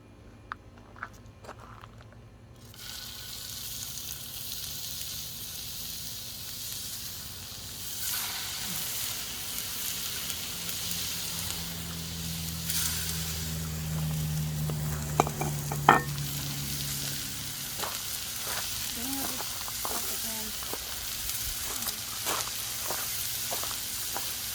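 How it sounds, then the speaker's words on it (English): Pork patties fry in a preheated cast iron field skillet over campfire coals, giving a steady, close sizzle that starts after a short quiet opening, with a few sharp clinks and pops and no talking. "we're going to add these pork patties to our cast iron pan, our field skillet"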